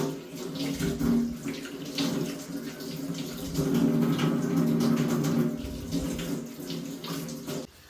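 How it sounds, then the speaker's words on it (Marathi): Running tap water splashes steadily into a sink while carrots are rinsed underneath, a continuous close wash with no voices. "आता आपण हे गाजर पहिल्यांदा स्वच्छ पाण्याने धुवून घ्यायचे"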